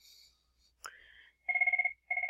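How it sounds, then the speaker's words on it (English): A telephone rings nearby in the background, two short warbling electronic bursts of rapid pulses, preceded by a faint chirp and a click, with no talking. "Sorry, that's my phone ringing in the background,"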